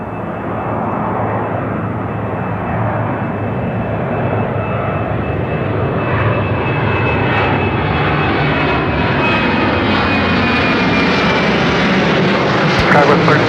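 An airliner takes off from runway 34 right at Seattle-Tacoma airport with a loud, sustained engine roar and a rising whine. A faint radio voice runs underneath, and a sharper burst comes near the end.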